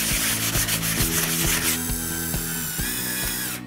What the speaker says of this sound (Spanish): Y ahora vamos a todas lijar.